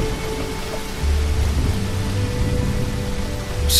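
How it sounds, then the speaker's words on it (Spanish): Steady rain pours down with a low rumble of thunder underneath, a continuous dense hiss that swells slightly partway through, no voices present. "Ya está lloviendo."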